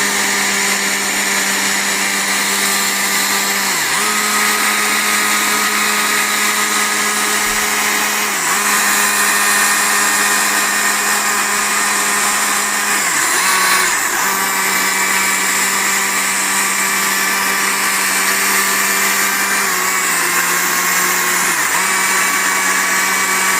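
A chainsaw carves feather detail into a double tawny owl wood sculpture, its loud, steady engine whine running throughout with brief pitch dips as the tip bites lightly into the wood.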